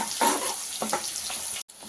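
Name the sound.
frying dried red chillies for tempering palak pappu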